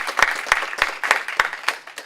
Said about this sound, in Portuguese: Então, aplausos, por favor, para a Amélia.